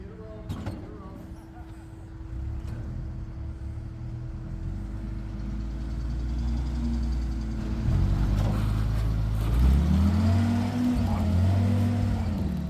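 A 1942 Willys MB Jeep named Brutus crawls over a rock obstacle in Pritchett Canyon, its engine a low rumbling idle that swells and revs as it climbs, fairly close, with voices talking over it.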